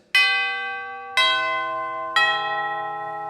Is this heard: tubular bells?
yes